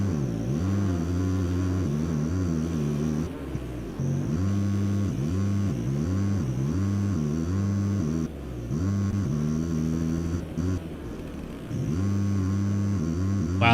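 A pink Honda motocross bike in MX Simulator revs hard climbing a steep hill, its engine whining up and down through repeated throttle surges and shifts, loud and close throughout with no talk.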